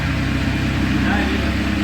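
Vauxhall Astra VXR engine running through a straight-through exhaust with a Skyline or Scooby back box, a steady low rumble close by, continuous and even, with no voices.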